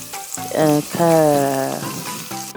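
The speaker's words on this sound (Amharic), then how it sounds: "ካሮቱንም ድንቹንም ፎሶሊያውንም እንጠብሳለን" Carrots, potatoes and green beans fry in a pan, giving close sizzling bursts that swell and fade in uneven waves.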